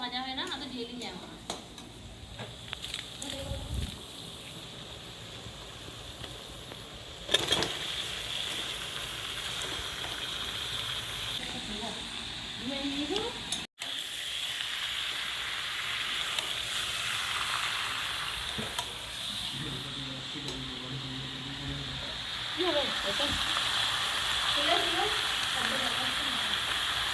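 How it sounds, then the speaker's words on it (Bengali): Onion, garlic and ginger fry in oil for a village chicken dish, a steady sizzle with occasional clatter of a pan and stirring, while someone talks over it. "পেঁয়াজ রসুন যত ভাজা হয় না আদা দিয়ে দিই যাবো"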